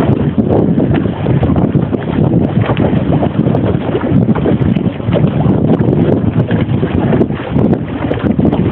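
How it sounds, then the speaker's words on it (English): Loud, gusty wind buffets the microphone while kayaking on Lake Mead, in a continuous roaring rumble, with water sloshing faintly beneath it. "Last time it got windy like this, I went home."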